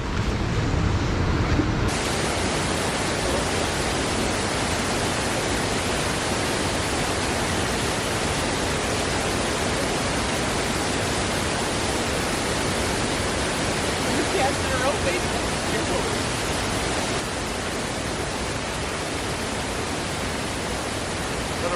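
A waterfall pours into a stream pool in Nantahala National Forest, a dense, constant rush of water that stays loud and unbroken throughout, easing just a little toward the end.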